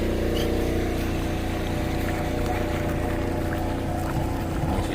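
A Tiara 34 boat's engine runs steadily after starting with a low, droning rumble, close and continuous, with no talking.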